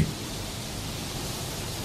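Steady rain falls softly in a dramatised radio story scene, a continuous even hiss with no distinct drops standing out and no voices.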